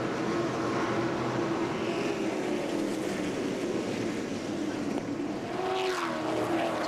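Late model stock cars race at the 2010 NASCAR Toyota All Star Showdown, a continuous dense engine roar from a distant pack that rises and falls as cars pass, with a brief swelling drone near the end.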